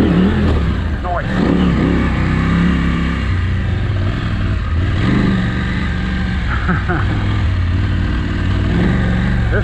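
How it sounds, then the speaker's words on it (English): A motorcycle churns through soft sand in a desert wash, its engine surging and revving unevenly with wind noise throughout, while a rider talks over it. "This bike is way harder to ride in the sand than my 500 for sure."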